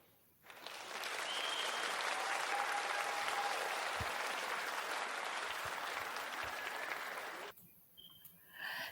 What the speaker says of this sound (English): Let me give her a round of applause